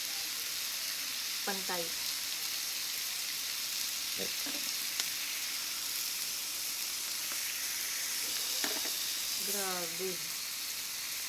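Karubi beef steak frying in its own rendered fat with no added oil, giving a steady close sizzle throughout, while people talk over it in short bursts.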